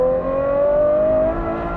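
A Ferrari 812 GTS V12 with a Novitec exhaust revs from inside the cabin, a loud, smooth, rising engine howl that climbs steadily in pitch for over a second before easing back.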